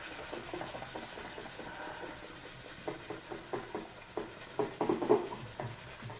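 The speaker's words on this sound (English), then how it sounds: "This is a 240 grit sandpaper, and I'm getting in there." Resin being hand sanded with 240 grit sandpaper, a quiet close scratchy rubbing in short uneven strokes that grows a little louder and faster toward the end, with no voices.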